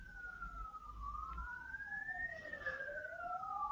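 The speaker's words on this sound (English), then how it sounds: "Listen to those sirens." A wailing emergency siren sweeps up and down steadily, heard at a moderate distance over low traffic rumble.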